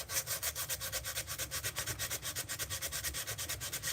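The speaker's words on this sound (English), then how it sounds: "And now when you do a little bit of rasping, you actually gotta get in there and break down those little grooves you get from the rasp." A rasp scrapes back and forth over a workpiece in a steady fast rhythm of about six strokes per second. Each stroke gives a short dry rasping burst, close and fairly quiet, with no talk.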